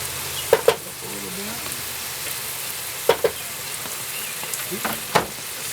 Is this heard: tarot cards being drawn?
no